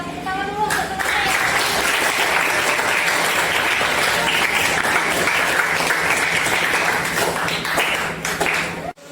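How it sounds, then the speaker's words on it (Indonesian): A classroom of students claps for their classmates, a loud, sustained burst of many hands that holds steady and then cuts off abruptly at the end, with faint voices underneath. "Coba tepuk tangan dulu untuk teman-teman."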